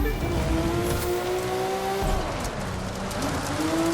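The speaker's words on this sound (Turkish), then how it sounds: "Gelip burada araba kullanırken Arabadan çıkan ses." A car's engine in an off-road racing video game revs loud and close, its pitch rising and falling with gear changes, and tyres squeal briefly.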